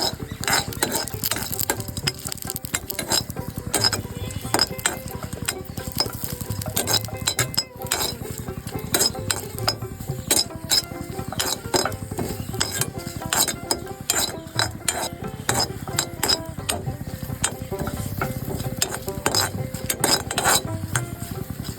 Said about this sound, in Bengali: দিয়ে দিচ্ছি শুকনো মরিচ, হালকা একটু তেল। তো এবার আমি সুন্দর মতো নেড়ে নিচ্ছি।